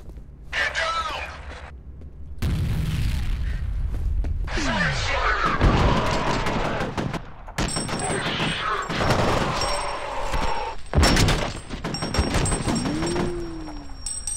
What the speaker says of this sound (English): I'm gonna toss a grenade their way.